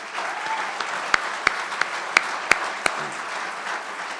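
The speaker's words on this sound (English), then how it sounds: "Let's give them all a big round of applause" Audience applause at a New York State announcement event, a steady patter of many hands with a few sharper individual claps standing out, moderately loud and continuous.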